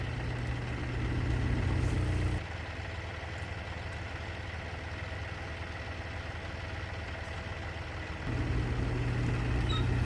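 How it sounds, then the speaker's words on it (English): A tractor engine drones steadily as it strains to pull a heavy tree while cutting timber for lumber. It runs louder and harder at the start and again near the end, with a lower, steadier hum between. "standing the tractor up on its back tires. It's a heavy tree."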